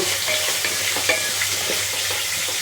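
A fish head fries in a pan with continuous loud sizzling, while a utensil scrapes and stirs with a few distinct clinks over the hiss.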